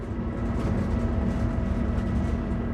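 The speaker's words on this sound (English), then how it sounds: "I board the diesel train, a more modern train that is quicker and environmentally cleaner." Steady, loud low rumble of a diesel cog railway train engine on Mount Washington, New Hampshire, running continuously, with a constant hum and no voices.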